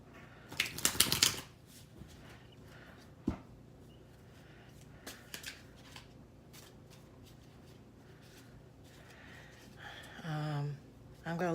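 Tarot cards shuffled by hand give a quick, loud riffle burst at the start, followed by softer scattered card flicks and taps as the cards are laid out, with a voice speaking briefly near the end.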